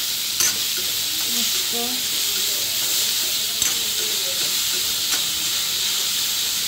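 Onion frying in oil with chillies for Mumbai-style egg bhurji gives a constant hiss and sizzle, with a few sharp stirring taps and a brief spoken word over it.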